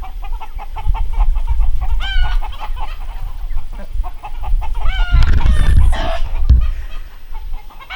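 A black Americana chicken, the last one hatched, clucks and squawks up close while being handled for a leg band, with a louder flurry of agitated calls midway.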